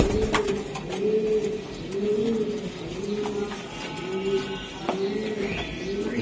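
A male racing pigeon coos repeatedly at close range in a steady rhythmic series of low, rolling calls, with faint background noise between them.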